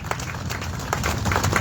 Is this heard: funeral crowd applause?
yes